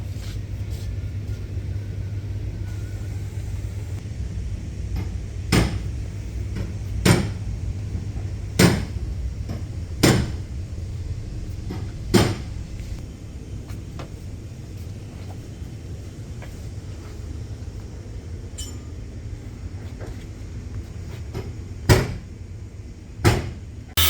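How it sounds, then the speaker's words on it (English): Sharp clicks and knocks ring out at irregular intervals as the rear bumper comes off a Nissan Skyline R34 GT-R in a workshop, over a steady low background rumble. "Now we're taking the rear bumper off."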